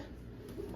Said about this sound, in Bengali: এই যে দেখেন এবার সবাই আমাদের পাখিগুলা এই পাখিগুলো আনছি